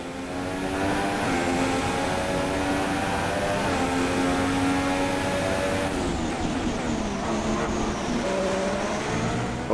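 Formula 1 race car engine in the F1 2016 racing game, a loud sustained high-pitched whine with steady harmonics that rise and fall through gear changes, continuous for nearly ten seconds with no talk.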